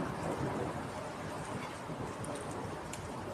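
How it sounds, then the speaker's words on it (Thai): Thunder rumbles in a storm with heavy rain outdoors in Israel, a dense continuous roar with a low rolling undertone, steady and loud throughout, no voices. "ฟ้าร้องพี่น้อง"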